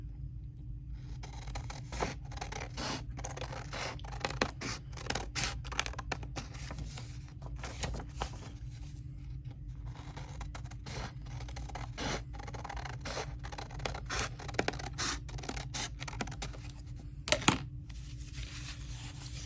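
Paper being cut out with scissors, a quiet, irregular series of short snipping and rustling clicks over a low steady background hum, with a sharper snip near the end.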